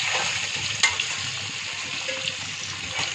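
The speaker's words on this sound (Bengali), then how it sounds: "এবার একটু হালকা করে নেড়ে দেবো।" Fried potatoes with ginger and cumin paste sizzle gently in a pan while being lightly stirred, giving steady frying hiss with a soft utensil click.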